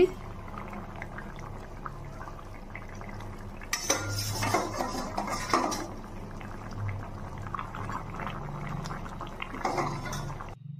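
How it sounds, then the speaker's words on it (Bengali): Fish pieces go into a simmering bottle gourd curry with clinks of a utensil against the pot, a burst of bubbling and splashing from about four to six seconds, then a soft steady simmer; no voices. "এবার মাছগুলি দিয়ে দিচ্ছি"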